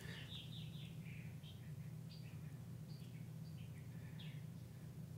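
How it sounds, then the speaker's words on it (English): Birds chirping outside open windows, faint short tweets and trills repeating irregularly over a steady low indoor hum. "the birds chirping"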